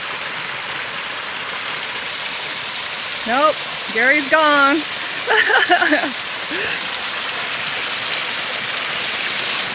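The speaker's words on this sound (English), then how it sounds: "We just came to a stream." A mountain stream on the Pacific Crest Trail rushes in a steady, loud broadband wash that runs unbroken throughout, while a person speaks briefly in the middle.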